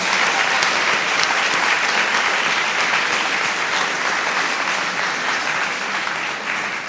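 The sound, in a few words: applause for Mr. Webb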